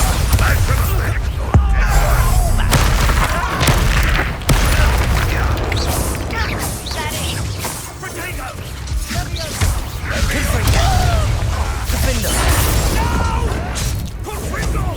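Spell blasts from Bombarda and other combat magic boom and crash through a busy fight in Hogwarts Legacy, loud repeated impacts and bursts layered with clashing effects and intermittent voices.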